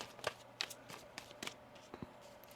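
A tarot card deck being shuffled by hand, several crisp riffling snaps and soft card slaps at irregular intervals, close and fairly quiet.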